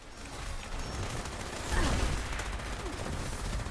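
Continuous gunfire from several players shooting at a boss in Fallout 76, forming a dense, steady fusillade of rapid shots that swells slightly midway through.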